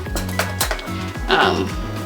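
Metal spoon scooping cooked meatballs and plopping them into a pan, giving a few clinks and scrapes over a low repeating kitchen rhythm, with a voice talking over it.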